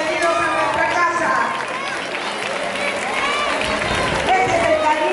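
An audience at a Chilean primary school, Escuela Básica Francisco Forgione, applauds warmly to welcome guests: a dense, steady wash of clapping and crowd voices that fills the whole stretch, with some cheering mixed in.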